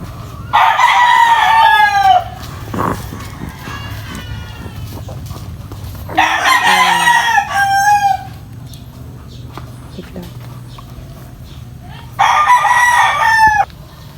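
A Lemon gamefowl rooster of the Duke Halsey line from Mount Banahaw crows loudly and close three times, each long call separated by a few seconds of quieter farmyard background.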